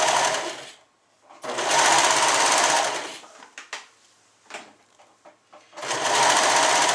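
Sewing machine stitching a seam on a suit, running in two long continuous bursts at the start and again at the end, separated by a quieter stretch of short handling noises and brief taps.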